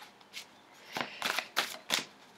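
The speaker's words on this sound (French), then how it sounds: "Je vais mélanger un peu le jeu." A Tarot de Marseille deck is shuffled by hand in several quick, crisp riffle bursts that grow louder toward the end, heard close up with no voices over them.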